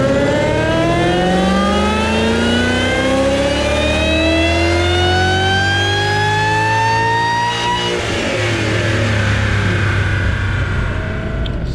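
Roush-kitted Ford Coyote V8 with a Roush cold air intake and stock throttle body revs hard on a dyno, the engine note climbing steadily through a long loud pull, then dropping off as it winds down.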